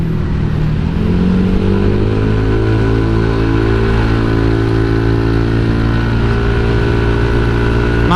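A Honda Vario 150 scooter engine with a custom throttle body runs loud and close, rising briefly then settling into a steady idle with a rough, rattling knocking undertone throughout.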